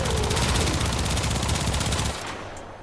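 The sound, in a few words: Kuva Twin Stubbas pistols firing in video game Warframe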